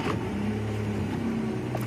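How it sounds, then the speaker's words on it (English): Safari vehicle pulling away on a game drive near a buffalo bull, a low steady engine hum with a slight rising drone, fairly quiet and continuous, no talk over it. "I'm just going to move the vehicle again quickly"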